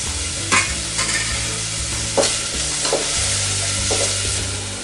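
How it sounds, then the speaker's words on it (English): Onions fry and sizzle steadily in a pan for red beans rice, a loud, close, continuous crackle broken by a few sharp stirring scrapes. "we want these onions to caramelize a little bit before we do anything else."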